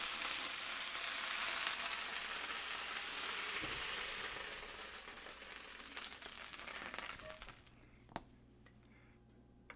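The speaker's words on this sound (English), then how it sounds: "let's get our onions sauteed just a bit" Onions sauteing in oil in a pan for a slow cooker beef stew, a steady bright sizzle that fades toward the end with a few soft stirring scrapes.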